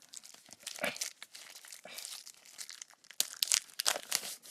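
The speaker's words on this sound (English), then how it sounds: "It's actually this hard for me to unwrap plastic." Crinkling plastic wrap being torn and peeled off a comic book, close and loud in irregular bursts and crunches, heaviest near the end.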